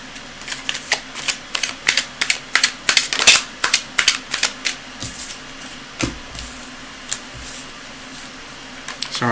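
Cards are riffled and shuffled repeatedly in quick rhythmic bursts, close up, followed by a quieter pause with a few soft taps.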